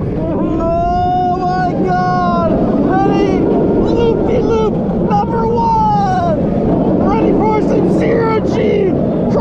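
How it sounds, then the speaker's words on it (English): The front seat of a shark-themed, Batman-style roller coaster at SeaWorld San Antonio brings a constant loud rushing rumble and wind buffeting, heavily overlaid by riders talking and shouting throughout. "We're on the shark-themed Batman-style ride here at SeaWorld San Antonio."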